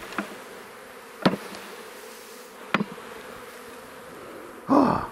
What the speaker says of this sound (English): We'll see whether the buzz changes when we drop her in there.